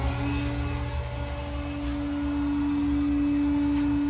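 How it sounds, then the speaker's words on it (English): Steady blower hum from a blow dryer forcing air into a waste oil burner, a constant drone with a tonal whine that holds evenly throughout, close and moderately loud with no talking. "So now we're gonna kick our blow dryer on."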